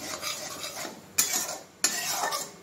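A spoon stirs spice masala in a cooking pan for shahi paneer, rasping scrapes with two sharper metallic scrapes against the pan, close up, no talk.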